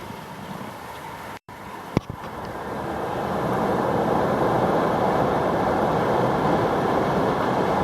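A train passing near the Ourimbah Creek railway bridge, a broad steady rumble that swells after a brief dropout and then holds loud and continuous to the end.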